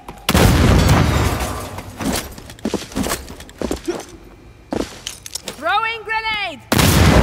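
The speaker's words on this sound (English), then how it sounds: "Throwing grenade!" Grenade explosions boom in the Second Extinction shooter game, heavy blasts at the start and near the end with scattered gunfire and combat effects between, while voices call out over the action.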